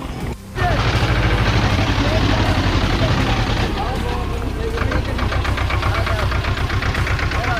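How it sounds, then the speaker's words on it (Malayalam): A tractor engine labours loudly up a steep mountain road in Uttarakhand, its heavy, knocking drone rising sharply after a brief dip and then holding a dense, rattling roar close by. "ഒരു ട്രാക്ടർ കണ്ടോ ഇത്രയും കയറ്റം കയറി വരണമുണ്ടോ"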